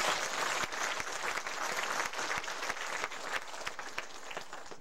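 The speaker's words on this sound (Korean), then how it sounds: "박수 한번 칩시다" A church congregation claps together at a building dedication service, a dense and steady wash of many hands applauding throughout, heard from within the hall with no voices standing out.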